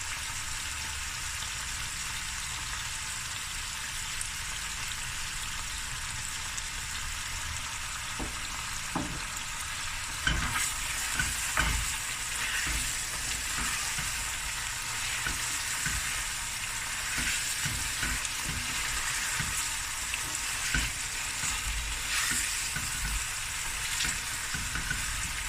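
Turmeric, garlic and ginger fry in a pan, a constant bright sizzle that swells louder partway through, with scattered stirring clicks and scrapes.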